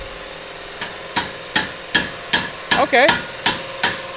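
About ten sharp, evenly spaced metal-on-metal hammer blows ring out close by as an axle is driven out of a Mazda Miata differential in a garage, with a brief spoken word between strikes.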